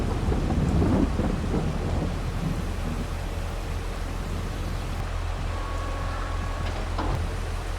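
Farming Simulator 22 weather on a Saskatchewan farm during mowing: steady rain hisses throughout, and a heavy thunder rumble swells near the start before easing into continuous downpour, with a faint tonal hum underneath.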